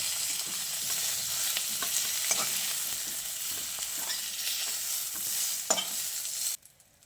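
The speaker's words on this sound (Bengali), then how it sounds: "এবার এই শিম আলুগুলোকে তুলে নিচ্ছি।" Fried beans (shim) and potatoes stirred and lifted from a kadai, with steady scraping and stirring over a continuous sizzle of hot oil, a sharper clink near the end, then the frying fades out abruptly.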